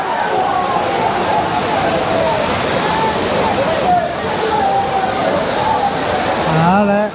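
Water pours at the Aintharuvi falls in Courtallam, a loud continuous roaring rush that stays close and steady throughout, with a person's voice breaking in over it near the end.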